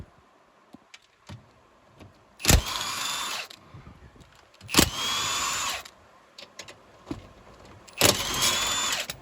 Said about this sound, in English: What I'm going to do next is undo these bolts and just see how loose it comes.